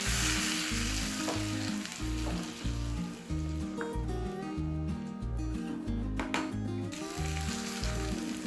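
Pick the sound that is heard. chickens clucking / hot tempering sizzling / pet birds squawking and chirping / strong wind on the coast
hot tempering sizzling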